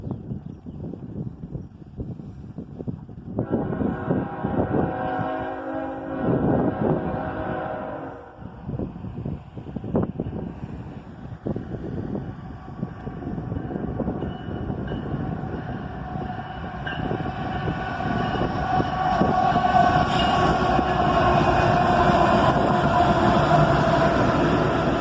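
A CSX southbound auto-rack train led by ET44AH and ES44ACH locomotives slows for a yellow signal, with a deep rumble and sustained horn-like tones early on, swelling louder toward the end amid wind noise.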